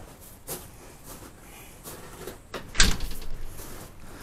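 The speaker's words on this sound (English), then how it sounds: "Door shuts." A wooden door on a DIY wood greenhouse swings shut with a single solid knock, preceded by a few faint shuffles and creaks and followed by a short rattling tail.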